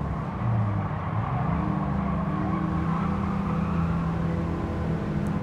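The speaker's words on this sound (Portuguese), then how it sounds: "E agora é estranho o barulho do carro, Zé." Electric car driving in the video game Gran Turismo 7, a steady low whirring hum with a constant road-noise rumble, even in level and uninterrupted, with no speech.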